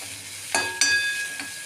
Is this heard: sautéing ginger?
yes